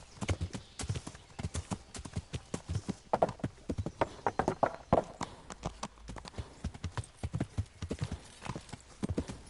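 Horse hooves from a ridden horse in the video game Kingdom Come Deliverance, a fast, continuous clip-clop of galloping strikes at moderate level, with no talking.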